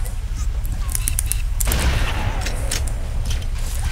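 Gunfire rings out in the video game Halo, a sharp burst followed by a sustained volley of shots and impacts, loud and continuous, with players talking over the action.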